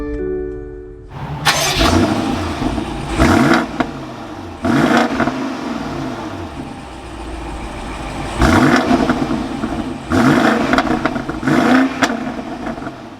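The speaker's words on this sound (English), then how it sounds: "with my foot on the brake, it's time to start it up." A 2022 BMW X7 M50i V8 cranks and fires up with a sharp burst, then settles into a steady idle punctuated by several quick revs that swell and fade, heard up close with no talking.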